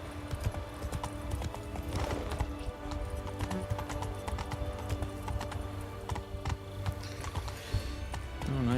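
Horse hooves clip-clop steadily and close in The Witcher 3 as the mount Roach moves, with a brief whinny among dense game music and ambient sound.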